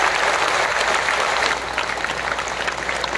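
An audience applauds at an award ceremony of a Latur civic organisation. The clapping is loud and dense and carries on steadily, easing slightly after a moment but continuing throughout.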